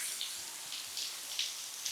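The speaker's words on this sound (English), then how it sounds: "these waterfalls look a little bigger, and maybe this was the waterfall" Steady rushing and splashing of a small waterfall along a mountain hiking trail, a continuous broadband wash of falling water with light spattering accents, heard close and alone.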